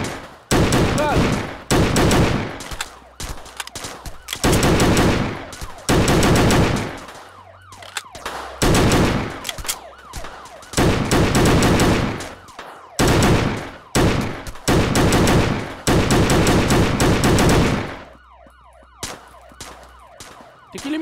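Sustained bursts of automatic gunfire in the bank robbery video game Stick Em Up, loud and repeated in long volleys separated by short pauses, with a low rumble between bursts.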